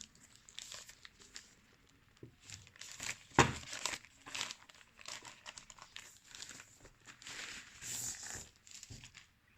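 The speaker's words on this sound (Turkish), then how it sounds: "Şöyle kutuyu kenara koyup cihazı çıkartalım ambalajından." Plastic packaging crinkles and rustles as a Xiaomi Mi Smart Scale 2 is unwrapped by hand, with close, irregular crackling bursts and one sharper tearing rip partway through.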